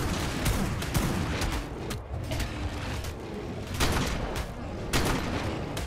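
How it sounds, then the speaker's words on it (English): Dense, sustained gunfire from the game Ark Ascended, rapid overlapping shots and bursts rattling nonstop at close range with loud sharp peaks throughout. "We're shooting him."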